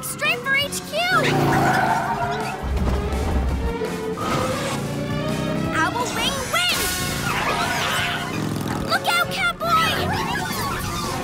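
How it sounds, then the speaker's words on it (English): A cartoon car driving and skidding in an animated children's show, with a revving engine, tire squeals and a thump, mixed with music and characters talking over it. "Okay, Gekko, I'll drive"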